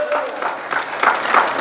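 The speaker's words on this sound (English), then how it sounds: "give God a hand clap of praise" A church congregation applauding in praise of God, a short burst of dense, close clapping from many hands mixed with voices.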